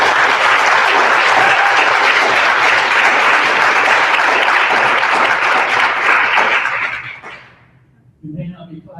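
An audience applauds during a superintendent's education listening tour event in Glendale, Arizona: loud, dense clapping that carries for about seven seconds, then fades out before a speaker's voice returns.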